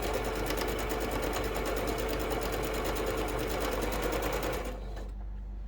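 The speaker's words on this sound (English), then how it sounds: "then we'll head over to the sewing machine and stitch that down" A sewing machine stitches a quarter-inch seam on a quilt block with a fast, steady, close mechanical whir for about five seconds, then stops abruptly.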